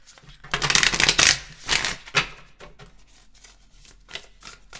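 Tarot cards being shuffled by hand to draw a card: a run of quick, papery riffling bursts, loudest in the first two seconds, then softer intermittent flicks and taps, close and clear with no talking.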